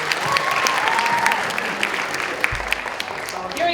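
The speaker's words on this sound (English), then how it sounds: "Let's give them another round of applause." Audience applause at a talk following a dance performance, steady and full, with voices faintly audible underneath as it tapers slightly near the end.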